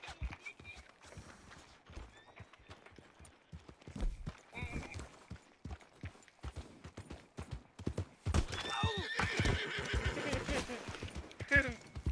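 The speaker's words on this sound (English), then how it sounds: "There goes your horse." A horse in the Western game Red Dead Redemption 2 clops along at pace with a rapid hoofbeat rhythm, then gives a loud whinny, while someone talks over the scene.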